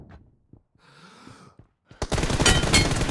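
Video game gunfire breaks out after quiet breathy sounds, ending in a sustained, loud rapid burst of automatic fire in the final second.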